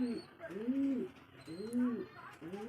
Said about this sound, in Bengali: ये मेरा जर्मनी कबूतर